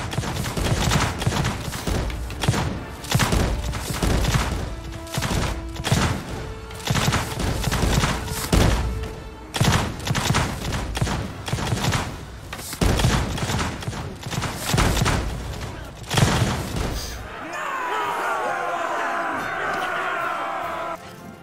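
Musket volleys crack out in a Mount & Blade 2 battle, with repeated bursts of massed gunfire and thuds over a crowd's roar, followed by a brief stretch of shouting and battle cries near the end.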